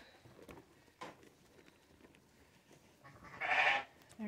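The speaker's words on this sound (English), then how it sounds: "There's some more sheep over here." A sheep or lamb on a farm gives a single loud, clear bleat against quiet outdoor background noise with faint rustling and light thuds.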